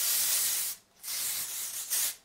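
Living Proof Full Dry Volume and Texture Spray aerosol misted onto hair, three close, loud hissing bursts with a short gap between the first and second.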